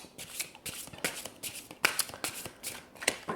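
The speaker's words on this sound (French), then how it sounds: "je vais tirer 3 cartes" A deck of tarot cards is shuffled by hand for a reading. It makes a quick, close series of crisp riffles and slaps in a steady rhythm, with no talking.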